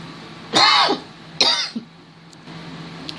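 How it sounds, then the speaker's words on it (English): Two harsh throat-clearing bursts about a second apart, close and fairly loud over a steady low room hum, followed by quiet background. "Sorry about that, I had to clear my throat."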